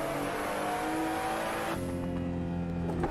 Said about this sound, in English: All the crackles and pops of a BMW engine.